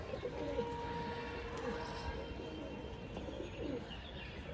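A male pigeon coos softly in repeated low, throaty phrases over faint background noise, with a few light chirps.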